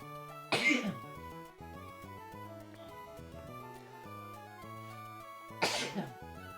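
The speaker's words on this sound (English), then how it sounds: "I'm about to sneeze." Two sharp sneezes a few seconds apart over soft background music, each a sudden close burst.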